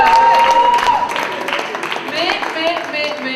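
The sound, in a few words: audience applauding a slam poet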